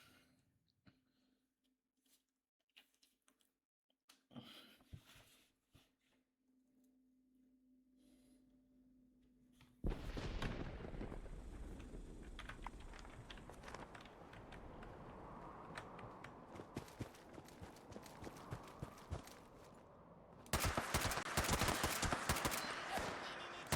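A powerful weapon fires in the Fallout 76 game, starting after a quiet, ticking stretch and then breaking into dense rapid gunfire bursts, with a louder, sharper volley near the end.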